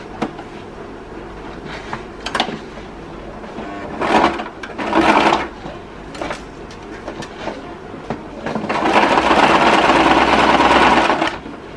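A sewing machine stitches a one-piece collar on plain fabric in several rapid bursts, ending with a longer, louder run close at hand.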